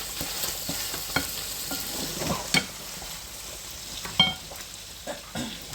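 A spoon stirs spaghetti in a cooking pot with soft, steady scraping and sloshing, broken by a few sharper knocks against the pot's side; no one speaks.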